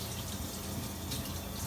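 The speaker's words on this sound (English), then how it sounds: "I like to rinse it under water." Cold tap water runs steadily into a sink as butter is rinsed under it, making a soft, continuous splashing hiss that stays even and fairly quiet throughout.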